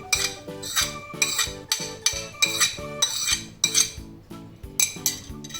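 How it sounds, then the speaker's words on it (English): A metal spoon clinks repeatedly against a dish while grated cheese is stirred into an egg and milk mixture, giving a steady run of bright, close taps and scrapes. "We add just the cheese that we have grated and kept."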